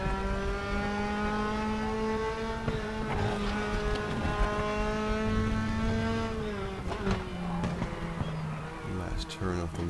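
Formula 3 car engine in the RaceRoom sim at Motorsport Arena Oschersleben, a loud, steady high-revving drone with rising and falling pitch through gear changes, heard continuously alongside talk.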